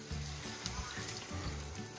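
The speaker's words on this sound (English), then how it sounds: "Add water." Water poured into a pan of corned beef cooking with chopped garlic and onion for a Filipino dish, giving a steady close trickle and splash with low bubbling underneath, and no one talking.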